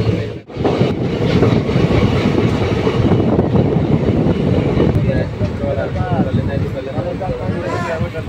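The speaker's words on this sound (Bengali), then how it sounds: "কোনো রকম লেট না করে আমাদের ট্রেন ছেড়ে দিয়েছে" A passenger train departing Azimganj rumbles along the rails, loud and close from on board, with steady clattering of wheels and wind noise throughout.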